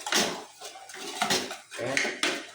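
A spoon stirs asinan seasoning in a bowl, giving repeated clinking and scraping strokes in an uneven rhythm, close and fairly loud with no voices.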